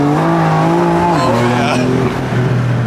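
A BMW M4 on sticky NT05R tires pulls hard down a straight road, its engine note climbing loudly with audible gear changes between rising surges, close and dominant.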